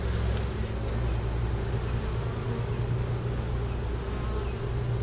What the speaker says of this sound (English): There's plenty of bees in here.